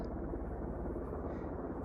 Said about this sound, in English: with all the helicopter noise I'm hearing, I think that's not needed